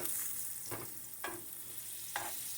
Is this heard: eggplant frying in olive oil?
yes